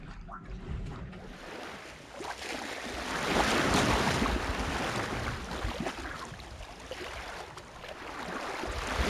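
Brisk wind buffets a Contessa 26 sailboat on a solo Atlantic crossing, a steady broadband rush of wind and sea with rising gusts and microphone buffeting, loud and continuous, no voices.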